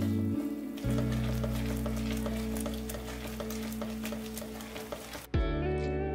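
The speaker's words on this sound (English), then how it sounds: "Add the separated chana and continue stirring while mashing it until it thickens slightly" Chana being stirred and mashed in a hot pan, a steady sizzling scrape with a spoon working through the thickening mixture, close and continuous, shifting to a brighter sizzle near the end.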